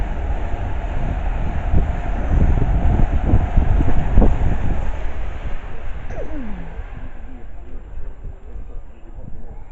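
A Pendolino train passes Bushey Station with a rumbling rush that builds to a peak midway and then fades. Someone talks quietly over it.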